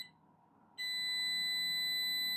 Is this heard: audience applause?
no